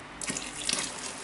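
Tap water runs steadily into a container while laundry gel is being diluted, a close, moderately quiet gushing stream that starts after a brief pause and continues without speech.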